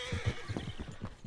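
A horse neighs in a short, rapid, shaky whinny inside the video game Red Dead Redemption 2, close and clear, with hoof clops mixed in.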